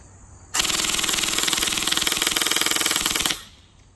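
A G&G ARP 9 airsoft gun fires one sustained full-auto burst of about three seconds, a loud, rapid, even mechanical rattle close by that starts abruptly and cuts off sharply, with no talking.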